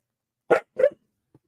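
Two quick dog barks close by, then a faint short yip after a pause; otherwise quiet.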